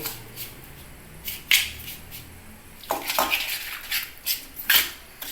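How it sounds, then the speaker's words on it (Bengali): Semolina idli batter being mixed with yogurt by hand in a metal bowl, heard as scattered clinks and scrapes of utensils against metal, with short bright clatters coming in irregular bursts. "এই দইয়ের উপকরণের সাথে এটা আমি মেখে নিচ্ছি"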